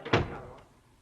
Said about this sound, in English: Close the door, MacDonald.